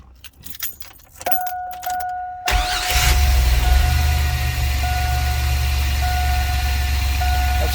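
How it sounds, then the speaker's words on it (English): Keys jangle before a Chevy 4.3 Vortec V6 cranks and catches, then settles into a steady idle with a deep, low exhaust rumble close by, alone without talk. "That low rumble is the exhaust."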